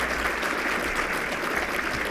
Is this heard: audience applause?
yes